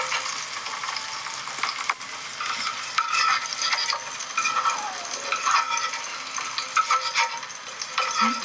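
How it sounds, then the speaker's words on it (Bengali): Paneer is frying in hot oil, giving a soft, steady sizzle and crackle with occasional light stirring clinks and pops, fairly quiet and close, and no one speaking. "ওই তেলের মধ্যে আমি পনিরটাই ভেজে নিচ্ছি।"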